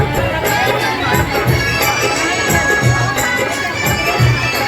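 A dense crowd fills a Durga Puja temple on Navami at Koilakh Devi in Mithila, a loud, continuous wash of mingled voices and shouts with no single voice standing out.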